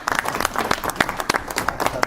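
Audience members at an annual general meeting applaud, producing a brief burst of close, moderately loud clapping with distinct individual hand claps standing out over a busy wash of applause.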